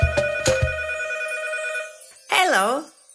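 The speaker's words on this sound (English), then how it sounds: "Telephone ringing, telephone ringing, ring ring ring, ring ring ring." A cartoon-style telephone bell ringing in a children's nursery song, a few sharp struck rings sustaining into a tonal hum before a sung voice enters.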